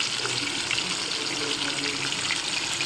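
Fish lowered into hot oil for frying, giving a steady, loud sizzle and hiss that holds evenly throughout, with no talking.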